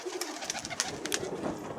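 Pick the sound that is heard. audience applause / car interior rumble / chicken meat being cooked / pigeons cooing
pigeons cooing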